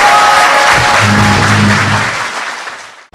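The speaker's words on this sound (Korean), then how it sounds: "박수 부탁드립니다." An audience claps steadily and loudly for a few seconds before the applause quickly fades out.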